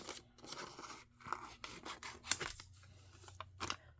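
Scissors make fussy craft cuts through paper, a quiet close run of short irregular snips and rustles with small pauses between them and no talk.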